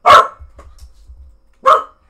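A female dog named Simba barks twice, loud and close, with a second of quiet rustling between the sharp barks.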